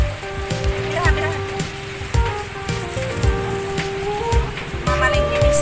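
Heavy rain falls during a ride toward a market in Agusan del Sur, Philippines, a steady dense patter running throughout with voices and other sounds mixed over it.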